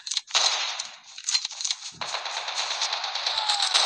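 Rapid automatic fire from an MSMC submachine gun in the mobile game Call of Duty Mobile, loud close bursts with a short pause and then a sustained stream of shots, no talk.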